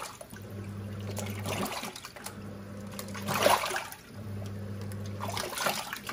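Water churns and sloshes inside a Giantex EP23113GB twin-tub washing machine during a demo, with a low motor hum pulsing on and off in repeated wash cycles.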